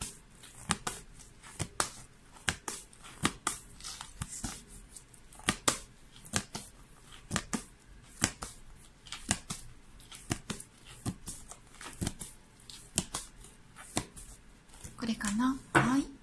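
Tarot cards are shuffled by hand in a quiet room, sounding as a long run of crisp riffling slaps in an uneven rhythm, close and fairly soft, with a louder rustle at the end.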